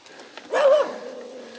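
A dog lets out a single short, high yelp or whine close by, outdoors during a gravel bike ride around Aukštadvaris park, followed by quiet background.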